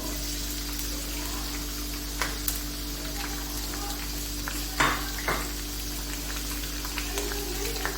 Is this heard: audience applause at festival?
no